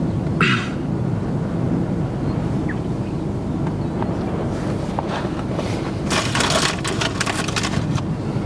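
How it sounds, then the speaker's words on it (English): Low thunder rumbles from a supercell storm over the Texas South Plains, far off and steady under heavy wind noise buffeting the microphone outdoors, with a few brief crackles near the end. "Pretty good rumbles. That's our storm right there."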